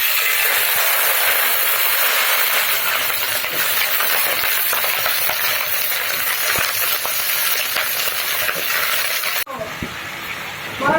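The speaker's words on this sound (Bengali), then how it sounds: "আমি এখন পটলটা ভেজে নেব আলাদা করে" Sliced pointed gourd (potol) fries in hot oil in a pan, giving a loud, close, continuous sizzle that ends with a sudden shift and a brief clatter near the end.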